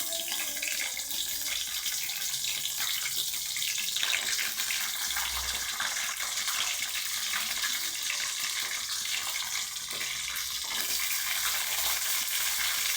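Dried red chillies and garlic fry in hot oil in a pan, giving a dense, continuous hiss that stays loud and even throughout, with no voices.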